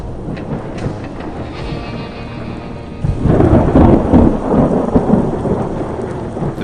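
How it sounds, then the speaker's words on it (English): Thunder from a distant growing thunderstorm rumbles low and steadily, then swells into a heavier, louder roll about halfway through, with a wash of rain-like noise throughout. "The sound of thunder can be heard in the distance"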